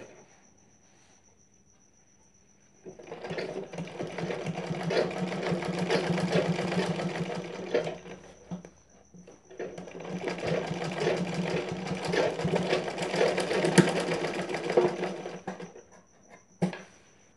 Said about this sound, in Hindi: मोड़ने के बाद यहाँ पर लगा लेते हैं सिलाई